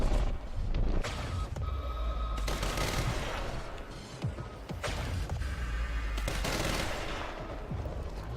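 Rapid bursts of gunfire from the video game Quantum Break ring out repeatedly over a dense, busy background, with loud volleys clustering throughout and no pause in the shooting.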